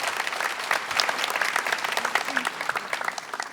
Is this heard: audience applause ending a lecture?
yes